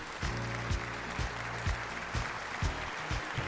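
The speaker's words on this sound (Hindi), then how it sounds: "ज़रा भरपूर तालियाँ इनके लिए" A studio audience at a Pakistan Idol gala round applauds the singer's family, with a steady wash of clapping and rhythmic low thumps recurring throughout.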